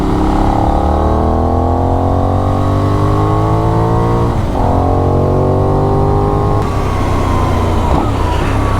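A Benelli 752s motorcycle engine revs loudly and close, its pitch climbing steadily through repeated pulls with brief dips between them.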